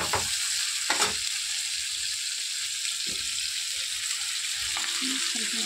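Ground spice paste frying with onions in a pan for a ghatkol leaf bhorta, giving a continuous close sizzle with a few scraping stirs, no talking over it.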